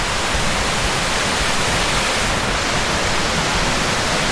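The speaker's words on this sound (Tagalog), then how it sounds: "Ayan, falls din yan." Twin Falls in Kalayaan, Laguna roars as a loud, unbroken wash of falling water close by, with no voices.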